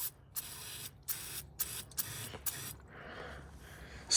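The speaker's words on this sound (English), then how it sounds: "spray where your oil filter was with brake clean" Brake cleaner sprays under a Civic in short hissing bursts, five quick blasts in a row and then a fainter, longer spray, close and fairly quiet.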